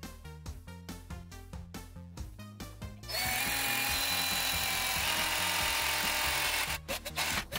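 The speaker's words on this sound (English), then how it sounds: "Now to drill some holes" A power drill with a 3mm bit bores holes in a copper heatsink for a custom GPU cooler, starting with rhythmic pulsing bursts before settling into a loud, steady high-pitched grind, then easing off near the end.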